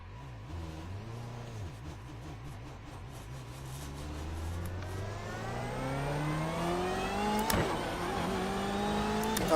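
A BMW M8 race car engine in iRacing at Summit Point climbs steadily through the revs, a rising buzzy whine with a couple of gear-change dips, moderately loud and alone.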